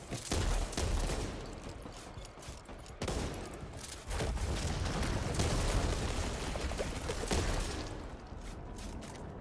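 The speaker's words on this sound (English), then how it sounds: "God damn, I love the shotgun with a long barrel." A long-barrel shotgun fires repeatedly in the zombie shooter Back 4 Blood, heavy booming blasts close and loud over continuous combat noise, with brief gaps between bursts.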